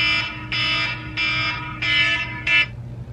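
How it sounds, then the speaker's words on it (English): An electronic alarm beeps in repeated bursts, five loud pulses with short pauses between, over a low steady hum. "I hate the sound of an alarm."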